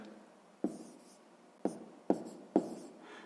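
A pen writes numbers by hand for a sixth-grade math exercise, giving four sharp taps of the pen touching down, each followed by a soft scratchy stroke across paper, close and quiet.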